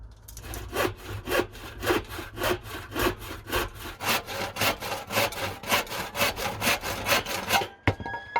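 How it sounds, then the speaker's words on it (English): A handsaw cuts wooden desk legs held in a plastic mitre box, about twenty-five rhythmic rasping strokes close up, each loud back-and-forth pass pulsing evenly before a brief pause at the end. "I used the plastic mitre again here to make sure I cut these legs at a perfect 90 degrees."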